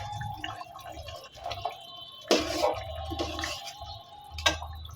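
Rui fish pieces, the head first, go into a simmering fish and potato curry, giving wet plops and drips, with a low bubbling simmer beneath and two sharper splashes, close and moderately soft.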